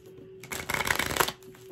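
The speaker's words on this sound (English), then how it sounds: "let's get these two more shuffles" A deck of tarot cards being shuffled close up, a quick flurry of papery riffling and flicking lasting about a second over a faint steady hum.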